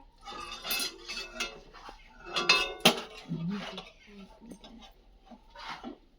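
A child stirs a pot with a metal spatula, making repeated clinks and scrapes of metal on metal, with adults talking over it.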